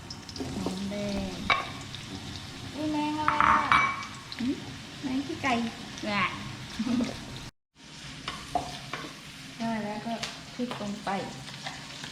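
Garlic frying in hot oil, a continuous crackling sizzle with occasional utensil clinks, heard close beneath people talking throughout.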